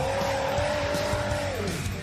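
A Supra drift car skids with a sustained high tire squeal that holds steady and then slides downward near the end, over a continuous engine roar; no talk.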